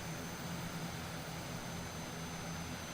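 Propeller airliner engine spinning up after pushback in Microsoft Flight Simulator, a steady low droning hum with a faint high whine, even and continuous throughout.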